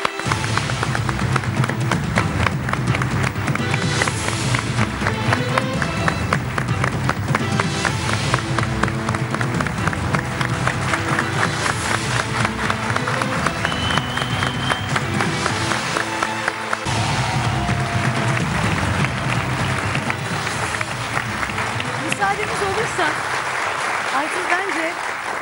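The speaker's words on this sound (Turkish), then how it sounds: "Şimdi güçlü alkışlar istiyorum." Loud, sustained applause from a studio audience on a Turkish medical talk show keeps up for about 25 seconds, with rhythmic clapping over music and no speech.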